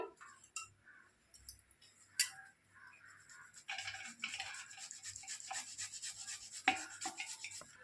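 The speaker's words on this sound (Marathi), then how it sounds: "घेतलेत बघा बटाटो किसून घेऊया आपण" A potato is grated by hand, with quiet scattered scrapes at first giving way to a steady run of close, rasping strokes against the grater.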